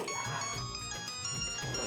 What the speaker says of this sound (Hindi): अरे ये तो सोने का फोन है।